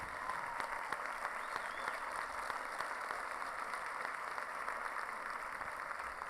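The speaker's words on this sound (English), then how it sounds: "please stand up for a big round of applause, please" A crowd applauds steadily and evenly throughout, heard from a distance with no pauses, at a kickoff luncheon.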